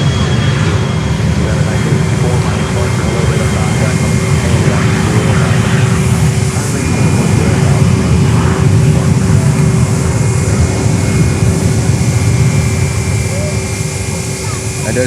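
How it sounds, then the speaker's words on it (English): A JetBlue airliner at Fort Lauderdale–Hollywood International Airport produces a continuous loud engine drone with a steady tonal whine, while someone talks over it throughout. "And there's JetBlue."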